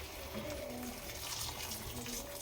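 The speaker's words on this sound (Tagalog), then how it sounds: "Ito po, mainit na tubig." Hot water poured into a cooking pot to make broth for a Filipino string bean and glass noodle dish, a steady splashing stream running throughout at moderate level with faint talk underneath.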